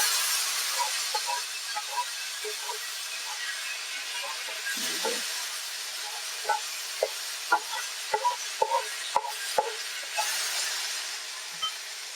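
Garlic fries in oil in a hot pan with a steady soft sizzle, punctuated by scattered clinks and taps of a utensil against the pan, close but fairly quiet, with no talking.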